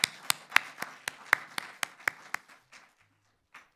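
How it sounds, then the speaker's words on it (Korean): Sparse clapping in a church welcoming visitors, a dozen or so distinct, evenly spaced claps that fade out, with a final lone clap after a short pause. "우리 박수로 환영하고 축복하도록 하겠습니다."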